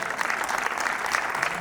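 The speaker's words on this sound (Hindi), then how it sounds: "एक बार इनके लिए भी तालियां बजा दीजिए" Audience applause at a live stage event, steady dense clapping from a crowd sustained throughout at an even level.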